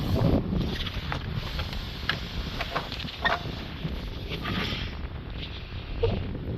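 Steady wind blows across the microphone with gusty rumbling, over faint water and background noise, no clear speech.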